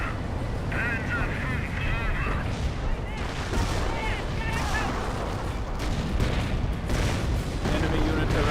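Artillery barrage from a Wolfman unit in the Company of Heroes strategy game, with dense overlapping booms and rumbling blasts continuing throughout, under steady commentary talk.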